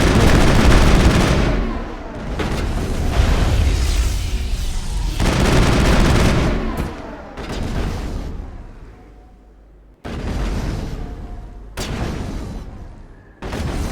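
Loud, sustained gunfire and booming blasts from combat in the video game Mass Effect, with dense bursts for several seconds, then separate sharp volleys after short breaks, and no one talking.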